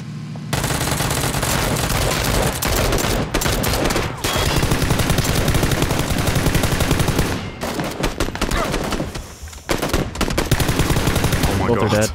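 Dense gunfire in PlayerUnknown's Battlegrounds, loud sustained bursts of automatic weapons and rapid shots close by, with only brief gaps across the span.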